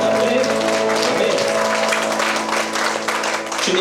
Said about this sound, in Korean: 우리 하나님 앞에 영광의 박수 올려드립니다.